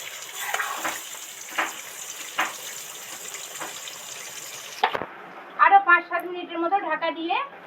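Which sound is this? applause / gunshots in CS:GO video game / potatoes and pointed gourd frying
potatoes and pointed gourd frying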